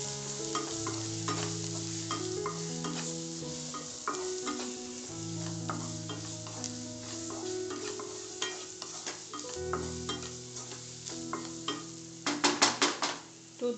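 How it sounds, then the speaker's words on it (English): Red chili powder, pepper and oregano sautéing in a pan for a Mexican burrito bowl, with steady stirring scrapes and a soft sizzle over background music, ending in a few quick clinks of a utensil against the pan. "the red chili powder, the pepper, and the oregano, and I'll saute them well"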